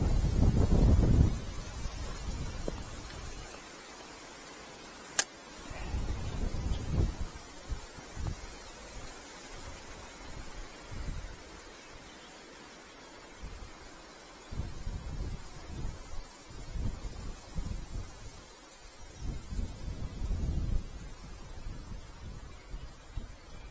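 Blustery wind gusting outdoors beside a mill stream, low rumbling buffets against the microphone rising and falling in waves, with soft rustling between gusts and a single sharp click partway through.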